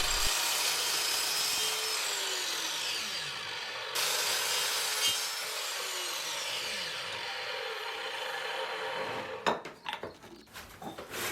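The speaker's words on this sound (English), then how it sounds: "I set the saw up here with a 14-degree bevel and then put another stop block, and now I'll just cut the bevels into the bottoms of the pot holders." A saw set to a 14-degree bevel cuts into the bottoms of wooden pot holders, a close, loud, steady rasping whine in two long passes, ending with a few clattering knocks of wood.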